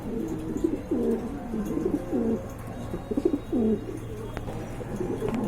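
Pigeons coo in a repeated series of soft, rounded calls over steady low background noise, the birds fairly close; the pigeons are tall birds of the bolder type.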